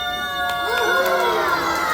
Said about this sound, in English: if you guys want to see Ash chop more, you have to yell out